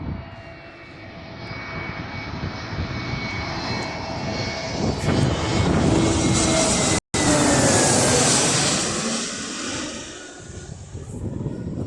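Loud, continuous roar of a nearby Boeing 777's jet engines, swelling to a peak and easing off, with a high whine over the rumble.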